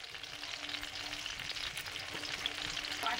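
Mustard oil sizzling in a pan, a steady, bright hiss of frying heard close and fairly quiet with a few small crackles and no talking.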